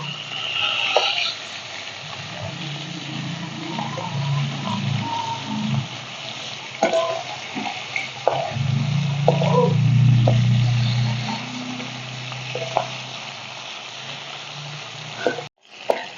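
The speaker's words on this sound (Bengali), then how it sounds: "মাছটা ভাজা হতে থাক" Rohu fish pieces fry in hot oil in a kadai, giving a continuous loud sizzling hiss with occasional utensil knocks and scrapes, swelling into a heavier bubbling roar midway before dropping off abruptly at the end.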